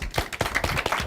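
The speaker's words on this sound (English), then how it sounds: "I like to end with a big round of applause" A brief burst of clapping from a crowd at an elementary school derby match, a dense patter of hands rising and falling in quick repeated bursts.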